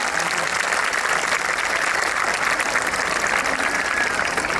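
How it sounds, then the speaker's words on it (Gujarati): Parents in the audience at a school annual function break into steady, dense applause that holds at an even level throughout, with a few voices faint beneath the clapping. "આપણે અહીંયા બેઠેલા દરેક વાલી મિત્રો તાળીઓથી અમને વધાવીશું"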